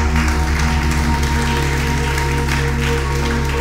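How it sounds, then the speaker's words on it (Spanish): Church congregation applauding during a Spanish-language sermon, dense continuous clapping filling the space loudly and steadily, with a low sustained musical hum underneath. "Dale ese aplauso al Rey de Reyes."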